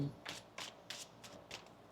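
Tarot cards are shuffled by hand in soft, quick riffling bursts, about six spaced through a quiet room, close to the listener and faint.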